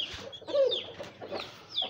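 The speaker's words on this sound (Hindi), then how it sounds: "ये एक और मुर्गा है रेड कलर का" A red rooster and hens making short, close clucks and throaty calls in a few separate bursts, with no voices.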